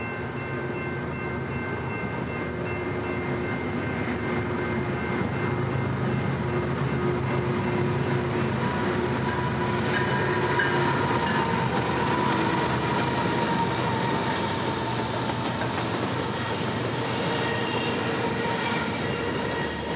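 A freight train hauled by three GE locomotives rolls past at track speed, a loud continuous rumble of wheels and cars with no break.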